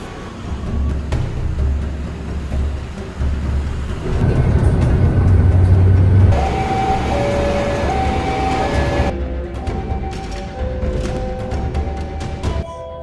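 Busy ambience at Karet commuter rail station in Jakarta, with a train rumbling past, rising to a loud roar mid-clip, then fading into crowd bustle and scattered clatter.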